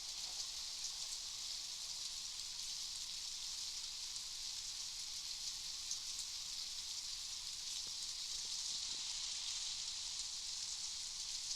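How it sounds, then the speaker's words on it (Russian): Steady, even hiss of rain falling during a thunderstorm, soft and continuous throughout with no voices and no audible thunder. "погода ужас. Дождь, молния, все как полагается."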